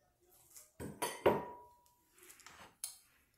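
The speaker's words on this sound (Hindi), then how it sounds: "अब इंस्टेंट पॉट के अंदर मैं ये सारी चीज़ें एक साथ डाल दूंगी।" Mutton, onion, tomato, garlic and ginger paste tipped into an Instant Pot for Lahori mutton karahi: a few close clattering clinks and knocks of pieces and utensils hitting the metal pot, in short bursts with pauses.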